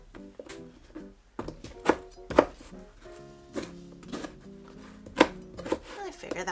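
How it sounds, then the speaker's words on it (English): A knife chops through pears on a cutting board in a handful of sharp, irregular thuds, with soft music playing in the background. "So I'm just going to cut up some pears"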